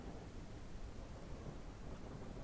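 Thunder rumbles through a storm in the video game Ranch Simulator, a steady, dense roar with no distinct crack, filling the whole stretch without any voice.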